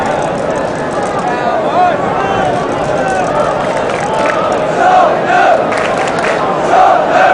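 A large football crowd at White Hart Lane during a 1974-75 Tottenham versus Chelsea match roars and chants continuously, swelling in waves, with a commentator talking over the noise.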